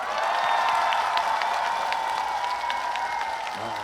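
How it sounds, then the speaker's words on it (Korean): Outdoor festival crowd applauding for the Busan Nam-gu district office's 50th anniversary, a sustained wash of clapping over a lingering tonal hum from the stage sound system. "저희 박수 한번 칠까요?"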